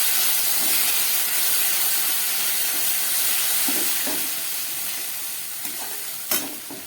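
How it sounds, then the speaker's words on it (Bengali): Ground cumin and coriander with a splash of water hiss and sizzle steadily in a pan, a loud continuous fry that eases slightly over time, with a couple of brief stirring knocks. "দিয়ে দিচ্ছি সামান্য একটু জল, মশলাটাকে ভালো করে ভাজার জন্য।"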